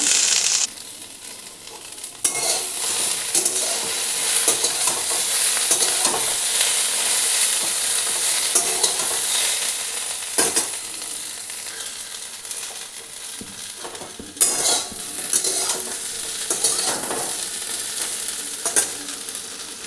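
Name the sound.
okra frying and stirring in pan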